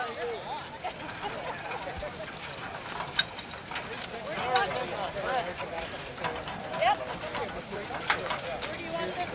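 Horses' hooves clip-clopping at an antique farm show, a series of sharp, moderately close hoof strikes in an uneven rhythm, with crowd chatter and voices throughout.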